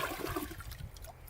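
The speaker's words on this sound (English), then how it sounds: "A little water is being forced through, but not enough." Rubber plunger forcing water through a clogged toilet bowl, a steady close-up gurgling and sloshing of water that continues throughout without talk.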